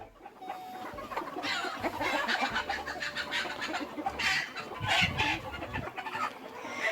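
Several chickens, hens and a rooster, cluck and squawk close by in a busy, overlapping chatter while feeding on cut grass, with rustling and scratching underneath.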